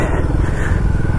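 A Royal Enfield Himalayan 450 motorcycle is ridden, its engine giving a steady, close, loud rumble with a rapid pulsing beat and rushing road and wind noise, no talking.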